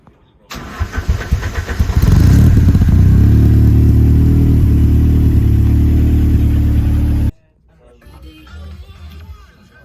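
A Ford Sierra Cosworth's turbocharged twin-cam fuel-injected engine starts with a rough crank, then settles into a loud, steady, close idle for several seconds before cutting off abruptly, leaving quieter background noise.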